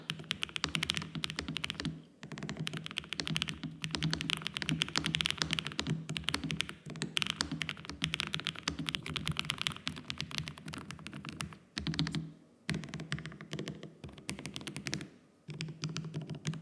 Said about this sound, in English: So on to typing, here's how it sounds.